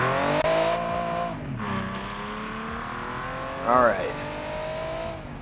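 A budget front-wheel-drive car with stock brakes and an open differential laps a racetrack in BeamNG, its engine revving up and down through shifts with a brief tire squeal; someone speaks briefly over it.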